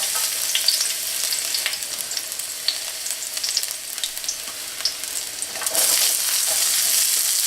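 Garlic fries in olive and sesame oil in a large wok, a loud, continuous crackling sizzle with scattered sharp pops, swelling slightly louder toward the end.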